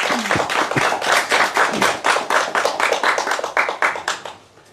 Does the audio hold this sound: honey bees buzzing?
no